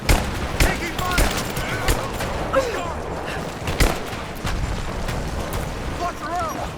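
Rise of the Tomb Raider combat: rapid bursts of gunfire and heavy booming shots crack repeatedly under overlapping shouted voices of enemy soldiers.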